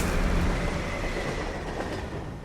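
A moving train rumbles and clatters steadily, loud and close, a continuous rolling noise with faint wheel squeal and no voices.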